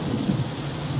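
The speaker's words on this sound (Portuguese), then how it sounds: "E tá chovendo muito" Heavy rain pours steadily during a storm in João Pessoa, with a low continuous rumble of thunder beneath the dense hiss of falling water.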